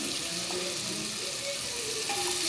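Mutton pieces being sautéed in a pot for a restaurant-style handi korma give off a steady, fairly faint sizzle and bubble. The sound runs continuously, with no talking over it.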